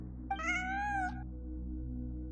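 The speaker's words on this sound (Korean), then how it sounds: "환청이 아니야. 진짜 고양이야." A cat meows once in the video game Genshin Impact, a clear, bright meow with a rising then falling tone lasting under a second over a quiet low ambient hum.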